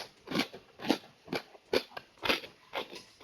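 Crispy roast pork crackling bitten into and chewed, giving about seven loud, close crunches in a steady rhythm with short quiet gaps between them and no voices.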